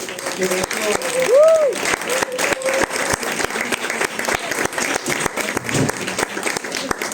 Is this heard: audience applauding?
yes